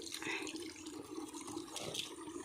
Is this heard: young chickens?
no